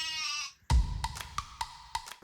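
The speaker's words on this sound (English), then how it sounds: "if I hold onto this crocodile clip and I touch this crocodile clip, we get an angry sheep sound effect" An electronic angry sheep bleat sound effect, triggered by touching two crocodile clips in a simple toothbrush circuit, gives one short bleat followed by a thump and a run of sharp, evenly spaced clicks.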